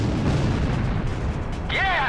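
A missile explodes during an aerial dogfight in the Ace Combat Zero video game, a heavy, rumbling boom with a continuous low roar, followed by a brief whining game sound near the end.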